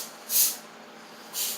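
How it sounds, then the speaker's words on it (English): A soda drink fizzes up, two short soft hissing bursts of carbonation, close and quiet. "See, I knew mine was going to fizz up."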